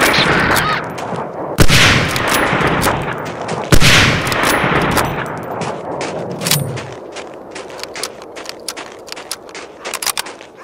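Sniper rifle fire in the video game Medal of Honor: Allied Assault, two heavy booming shots with long echoing tails followed by a scatter of lighter, sharper distant shots, no talk.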